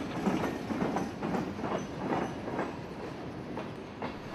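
CSX train 0840 rolling southbound on the Valrico Subdivision, slowly crossing a diamond, with rhythmic wheel clatter over rail joints heard at moderate distance.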